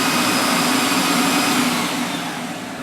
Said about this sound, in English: turn on the vacuum, drop the squeegee, and now I can just slide it along and pick up any water